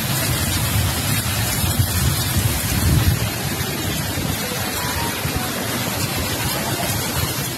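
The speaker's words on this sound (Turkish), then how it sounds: "Ardından yağmur başladı." Heavy rain pours during a hailstorm in Mexico, a dense, steady roar of water hitting surfaces that stays loud and unbroken throughout.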